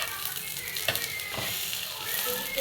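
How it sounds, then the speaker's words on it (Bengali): Gola ruti, a batter flatbread, fries in a pan with a steady close sizzle and a couple of soft taps from the spatula. "আমি এখানে গোলা রুটি ভাজছি"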